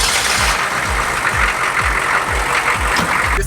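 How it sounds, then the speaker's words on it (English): A Hummer's diesel turbo engine idles loudly and close by, with a steady, low, rhythmic chugging pulse and no speech. "Let's go ahead and start this diesel turbo engine."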